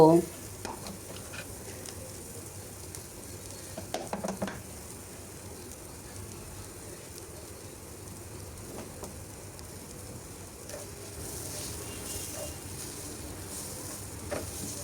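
A quiet, steady sizzle of lentils frying in a pan, with a few soft stirring scrapes and clinks.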